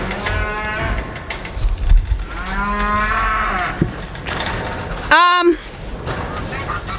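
Cattle from a homestead herd moo several times, long drawn-out calls close by, one after another, with a person speaking at moments between them.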